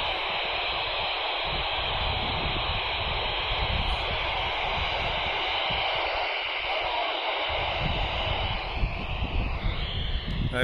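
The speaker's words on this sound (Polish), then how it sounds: "Ewidentnie słychać jakąś stację w tle, ale nie jesteśmy w stanie jej odczytać." A CB radio during emergency communication tests hisses with steady loud static, with a faint, unreadable distant station buried in the noise throughout.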